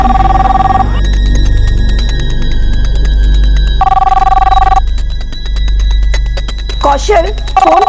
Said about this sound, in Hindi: फोन तो उठा लेता ना। लैंडलाइन है मम्मी, मेरा फोन हो ही नहीं सकता।